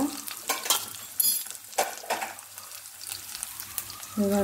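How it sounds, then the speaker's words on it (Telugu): Dried red chillies fry in oil for a tempering, giving a soft, crackly sizzle with intermittent stirring clatter and a few bursts of spattering. "ఎండుమిరపకాయలు ఒక 4 వేసి ఫ్రై చేసుకోవాలి"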